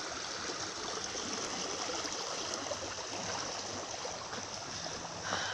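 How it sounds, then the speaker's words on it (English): A river flows in a continuous broadband rush, steady and fairly close, with no talking over it. "so this river is like somewhat scary"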